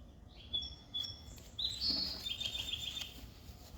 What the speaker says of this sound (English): the birds chirping in the background were a nice touch